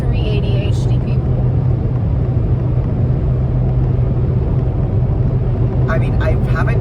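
Riding inside a moving car, with a steady low road and engine rumble filling the cabin throughout and no clear break in the noise.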